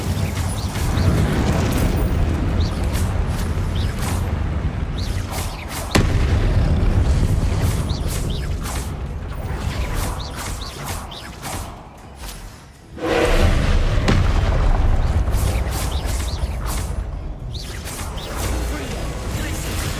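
Spell blasts and fiery bursts from Hogwarts Legacy combat, a dense loud wash of booming impacts and crackling explosions with brief dips, mixed under shouted voices.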